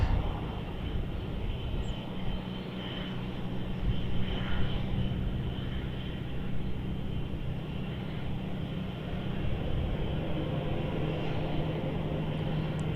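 A Jetstar airliner taking off from runway 34 at Melbourne, a sustained, even jet roar with a steady low engine hum, swelling slightly midway and holding level, heard at a distance with no talking.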